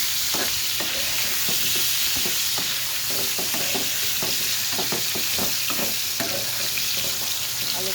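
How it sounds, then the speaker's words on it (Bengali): Potatoes fry in a pan with a loud, close, continuous sizzle, broken by repeated clacking scrapes of a spatula turning them, and no one speaking. "আলুটাকে একটু ভেজে নেব"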